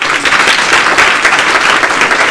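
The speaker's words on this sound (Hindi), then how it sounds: "आपकी तालियां फिर से बजनी चाहिए" Audience at a youth festival held at a university applauds loudly, a close, dense burst of many hands clapping that stays strong and steady across the whole stretch, with no speech over it.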